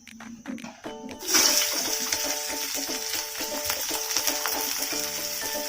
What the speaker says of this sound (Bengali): তারপরে একটু ভালো করে ভেজে নিব মানে একটু ব্রাউন কালার হলেই চলবে